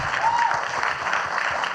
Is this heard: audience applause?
yes